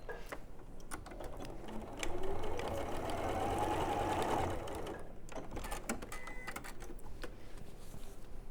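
A sewing machine stitches fabric strips and little squares with a quarter-inch seam, a faint close rapid whir that rises for a couple of seconds, set against quiet room noise.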